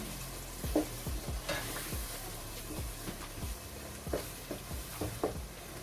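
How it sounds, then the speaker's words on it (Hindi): Homemade masala being stirred and fried in a pan for chicken gives off a soft, continuous sizzle, broken by repeated scraping strokes of a spoon against the metal, close and fairly quiet. "ऐड करने के बाद इसको अच्छी तरह से मिक्स कर लेंगे"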